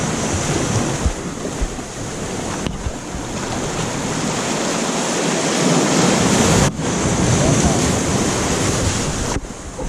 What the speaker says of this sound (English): it get choppy and the current gets strong